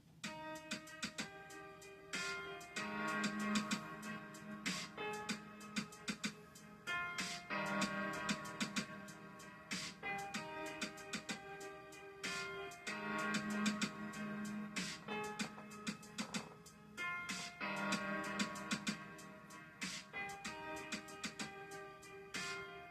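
A self-made piano rhythm in a composed track plays alone: steady, repeating chords in a looping pattern that runs continuously at moderate volume, with no voices.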